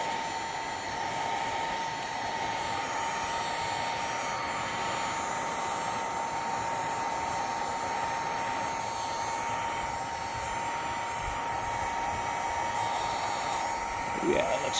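A hot air tool blows steadily on a foam Halloween prop to melt and age it, a continuous loud whooshing roar holding for the whole stretch, with a small bump of handling near the end.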